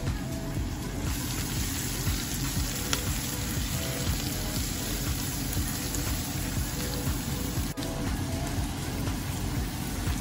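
Garlic and onion fry in butter in a pan with a loud, continuous dense sizzle and steady crackling, plus a faint hum underneath and no talk.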